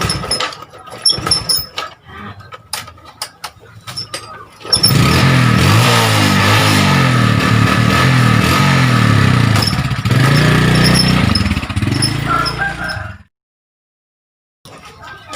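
Motorcycle engine idling close by, a loud sustained chugging rumble for several seconds after scattered knocks and clicks, then cutting off into silence.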